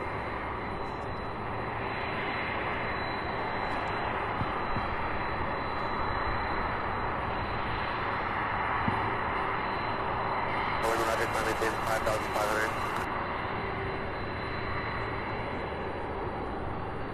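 Constant broadband roar of Boeing 767 jets taxiing and preparing for takeoff at Louisville International's UPS Worldport, a steady distant engine rumble heard throughout, with a brief brighter swell partway through and a voice talking over it.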